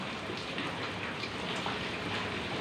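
Steady rain falling, a dense even hiss of drops pattering on surfaces with no voices, continuous throughout.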